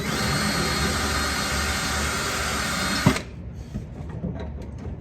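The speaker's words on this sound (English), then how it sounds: "Okay, so we'll pre-drill here." A power drill pre-drills holes in wood for a wood vise installation, whining loudly and continuously at close range for about three seconds before it stops abruptly, leaving quiet handling clatter behind.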